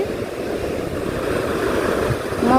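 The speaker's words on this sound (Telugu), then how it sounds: "సముద్రం అయితే అలలు అయితే ఎక్కువగా వస్తున్నాయి" Sea waves break on a rough shore during hand-line fishing. The surf makes a steady, close rushing wash that swells slightly toward the end, with wind noise and no voices.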